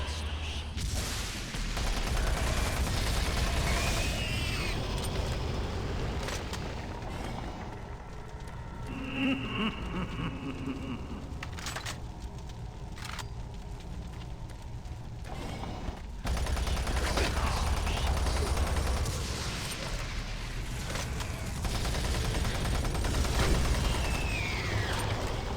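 Automated turret guns fire in Doom 3, loud bursts of rapid gunfire mixed with dense game combat noise, briefly thinning in the middle before surging back.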